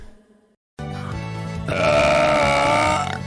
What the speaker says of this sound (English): Which was that burp?